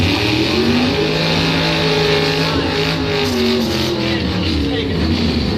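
Doorslammer drag race cars at a drag strip event, engines roaring loudly and continuously with rising and falling harmonic tones as they accelerate, the sound blanketing the whole stretch.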